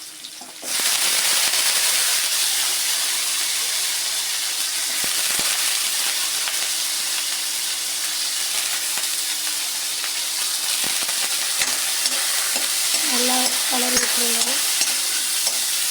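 Cut drumstick pieces sauté in hot oil in a pan, a loud hissing sizzle that jumps up sharply at the start and holds steady, with occasional faint stirring knocks and a brief tonal squeak near the end.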